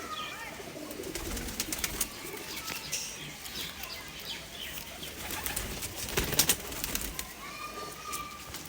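Imported Madrasi pigeons at a home loft coo softly amid a steady bed of bird chirps, with occasional wing flutters rising now and then throughout.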